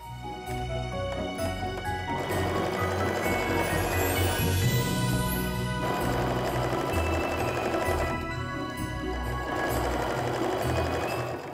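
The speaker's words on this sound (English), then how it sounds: "I tend to flip it around and sew the other side." A sewing machine stitches a snowflake mug rug, its needle running in one steady, close, continuous burst with no talking.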